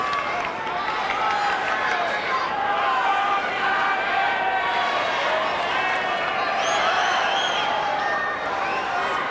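A large tennis stadium crowd at an Australian match point, with Ivanisevic playing, keeps up a loud continuous din of mixed shouting, whistling and jeering voices, dense and unbroken throughout.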